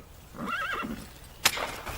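A horse neighing nearby, a wavering whinny rising and falling in pitch, followed by a sharp knock and a short snort-like breath.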